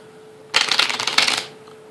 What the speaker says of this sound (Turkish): Bu iki kart desteği karıştıracağız.